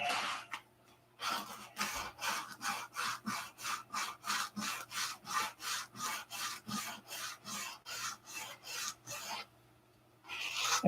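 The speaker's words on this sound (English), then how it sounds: "I didn't get quite enough of the plywood rib sanded off. So, we'll hand sand this." A plywood rib being sanded by hand, with a steady series of about twenty rhythmic rasping strokes, close and clear, pausing briefly near the start and end, with no talking.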